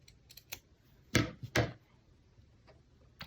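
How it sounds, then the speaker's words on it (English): Scissors snip straight across a fabric seam, two sharp close cuts in quick succession amid a few faint handling clicks. "I'm going to cut it kind of straight across"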